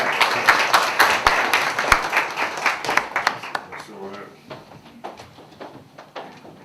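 Audience at a poetry festival breaks into a burst of clapping that thins into scattered claps and fades out over several seconds.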